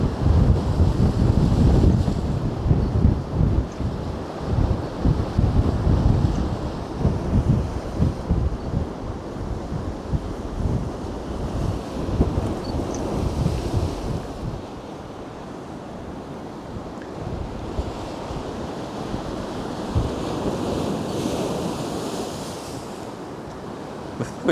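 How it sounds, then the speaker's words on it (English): Strong wind gusts and big surf crash against the shore at Can Pastilla, Mallorca, a loud continuous roar of breaking waves with heavy wind buffeting the microphone, easing slightly in the second half. "the wind is blowing on my back, so even though the waves are coming right up, none of the splashes get to us here"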